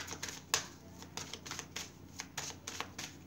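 Tarot cards shuffled by hand, quiet repeated riffling and slapping bursts in an uneven rhythm, close but faint.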